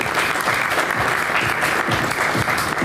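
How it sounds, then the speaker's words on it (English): An audience at a corporate electronic security presentation applauds a staff member, a dense, sustained wash of many hands clapping, steady and fairly loud from start to end. "Big round of applause for Rais"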